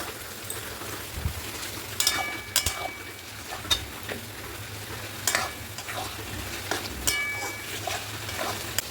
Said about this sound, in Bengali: মশলার মধ্যে আমি এই চর্বিগুলো দিয়ে দেবো, চর্বিগুলো দিয়ে ভালো করে কষিয়ে নেব